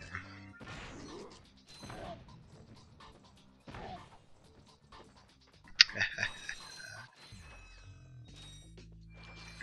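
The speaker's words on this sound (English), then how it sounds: "this bolt crank actually lowers the platform up there for us" A bolt crank turning in the Ratchet and Clank video game, lowering a platform, with clicking mechanical bursts, a sharp metallic clank and a closing low grinding hum amid scattered game effects.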